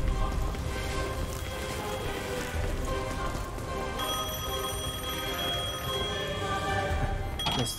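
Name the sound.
telephone ringing in video game Devil May Cry 5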